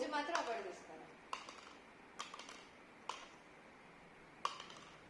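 Small objects dropped into drinking glasses during a one-minute party game give several separate bright clinks spaced about a second apart, after a short stretch of voice at the start.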